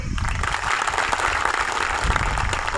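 Audience at an Ambedkar Jayanti gathering in Jat breaks into sustained, dense applause, loud and steady throughout with no speech over it.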